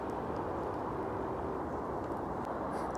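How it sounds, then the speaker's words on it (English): Distant hum of motorway traffic on the M1 near Milton Keynes, a steady broadband rushing drone heard from damp countryside woodland, continuous and without voices. "You can hear the hum of traffic along the M1 in the background"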